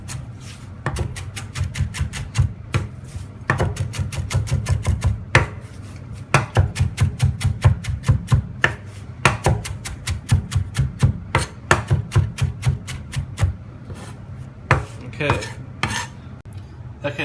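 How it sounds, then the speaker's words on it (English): A knife chops a handful of fresh parsley on a cutting board, giving rapid, steady bursts of crisp close taps with short pauses between runs. "I've just got a handful of some fresh parsley here, so we'll go ahead and just give that a quick chop"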